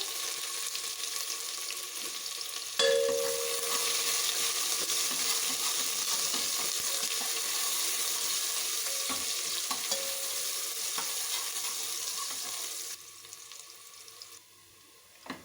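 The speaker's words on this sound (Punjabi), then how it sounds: "ਜੀਰਾ ਜਦੋਂ ਹਲਕਾ ਜਿਹਾ ਫਰਾਈ ਹੋ ਜਾਏਗਾ ਇਹਦੇ ਵਿੱਚ ਪਿਆਜ਼ ਪਾ ਦਾਂਗੇ" Cumin and thinly sliced onions fry in a pan for urad dal khichdi, a dense, steady hiss of sizzling oil with occasional stirring scrapes, close and continuous, easing off near the end, with no talk.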